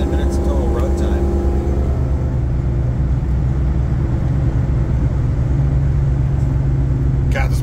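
An EFI 460 engine in a 4x4 dually truck with a stage 1 cam and 1.8 ratio roller rockers runs steadily, giving a loud, continuous low rumble close by with no talk over it.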